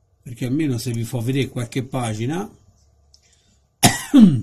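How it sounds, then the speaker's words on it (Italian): A single sharp cough near the end, loud and close, following a stretch of someone speaking Italian and a brief pause during a TikTok live stream. "Scusate la tosse"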